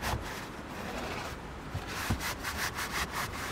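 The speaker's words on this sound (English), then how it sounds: "I'm just gonna spray a little bit on here" Rubbing and wiping on a WeatherTech front floor mat for a 2022 Jeep Grand Cherokee after spraying it with water, a steady close scrubbing texture with a few brief louder swipes near the end.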